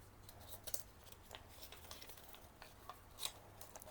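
Scissors snip through paper while cutting out a heart shape for a DIY Mother's Day pop-up card, giving quiet, close crisp cuts scattered over a few seconds with no talking.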